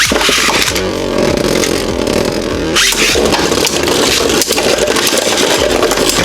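Beyblade Revive Phoenix spinning in a plastic stadium during a battle, a loud continuous whirring scrape with rattling clashes and a sharp impact partway through as the tops collide.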